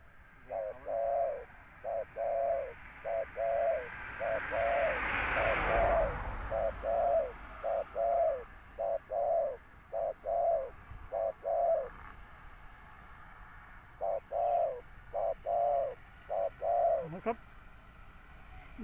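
A captive decoy bird, likely a dove, gives a long series of repeated coos in steady rhythmic phrases, close and clear, pausing briefly before resuming amid soft outdoor background noise.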